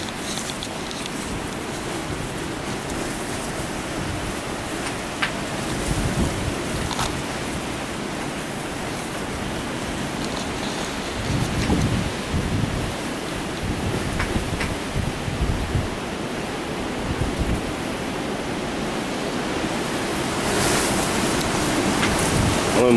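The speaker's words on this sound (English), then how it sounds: "listen to the wind" Strong wind roaring steadily outdoors during wild weather, a continuous broadband rush with gusty swells and buffeting against the microphone, no clear talking.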